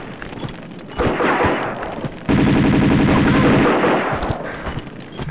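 Rapid automatic gunfire from Lara's weapons in Tomb Raider 2 rattles in loud sustained bursts, starting after a second, breaking briefly, then resuming as a dense, continuous volley.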